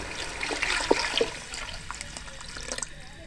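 Water splashes and trickles into a pot of rice, about 1.5 litres poured over one kilo of grain while cooking Arabic fish majboos, a steady close pouring with a few brighter splashes and no talk.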